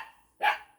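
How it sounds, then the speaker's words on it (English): A single sharp dog bark rings out at moderate distance outdoors, near a shooting rest, after a quiet moment, with no other dogs or voices alongside. "These guys are just barking at nothing."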